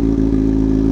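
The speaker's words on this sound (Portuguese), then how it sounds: "Credo, mano, o barulho dessa moto só o cano é outros" A Honda Hornet motorcycle with a straight-pipe exhaust idles loudly while warming up, a deep, steady, throbbing rumble close by with no voices.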